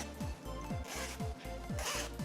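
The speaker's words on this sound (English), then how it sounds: "Does the zipper work?" A pencil case zipper is pulled repeatedly, five quick rasping strokes in an even rhythm, close and fairly loud with no talk.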